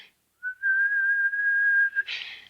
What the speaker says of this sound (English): she heard the faint answering whistles outside